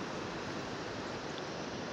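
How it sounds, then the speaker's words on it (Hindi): The Pinder river at Nalgaon in Chamoli Garhwal, Uttarakhand, gives a constant, even, broadband rush of flowing water that fills the whole moment without pause. "यहाँ से गुजरती है पिंडर नदी"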